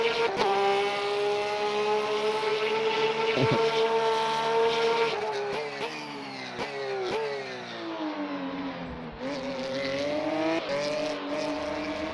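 Loud race car engine note from the Le Mans Ultimate sim, revving high with a clear upshift that drops the pitch before it climbs again, sustained and close with no talk over it.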